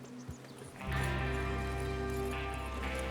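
Horses setting off at a trot in Red Dead Redemption 2 as a gang rides out to rob a train, steady hoofbeats rising after a quiet start and continuing under a game music bed.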